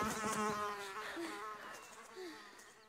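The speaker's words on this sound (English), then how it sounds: "A bee!" Cartoon bee buzzing, a close, wavering high drone that sweeps up and down in pitch for a few seconds and slowly fades.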